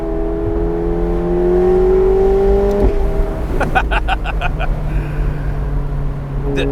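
McLaren 750S Spider engine droning and climbing under load, then a sharp upshift drops the pitch, followed by a burst of crackling pops; loud and close in the cabin, with a voice briefly underneath.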